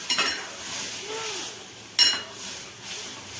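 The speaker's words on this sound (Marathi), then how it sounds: "आपली शिजवलेली डाळ त्याच्यात टाकायची आहे" Cooked dal being tipped into a pan and stirred, with a soft sizzle of frying under scraping and a couple of brief spoon-against-metal knocks, close and fairly quiet, no talking.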